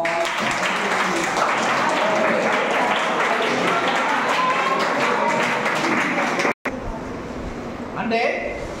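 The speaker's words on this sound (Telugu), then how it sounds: "క్లాప్ కొట్టండి." A summer-camp classroom of students clap together in a dense, sustained burst that fills most of the clip, then cuts off abruptly, followed by a brief quieter stretch with scattered noise.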